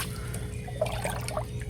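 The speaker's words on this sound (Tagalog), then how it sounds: "So lipat na natin yung tubig dito sa grow out." Water is poured into a small fish grow-out tank used for baby mollies, making a soft continuous trickle and splash close by, with no talk.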